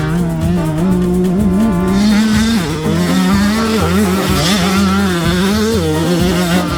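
A Fantic XX125 two-stroke dirt bike is ridden hard, its loud, buzzing engine rising and falling in pitch as the rider works through the revs, up close and continuous.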